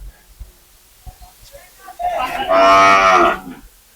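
A cow at the Gabtoli cattle market, where small-sized cattle are sold, lets out one long, loud moo near the end, after a few seconds of faint clicks and quiet background voices.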